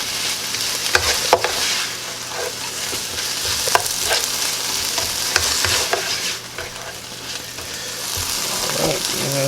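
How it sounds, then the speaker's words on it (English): Sliced mushrooms are stirred and fried in a pan for Spam breakfast fajitas, giving a steady sizzle with scraping stir strokes throughout, close and fairly loud. "we're going to put in the mushrooms now and get them good and stirred up"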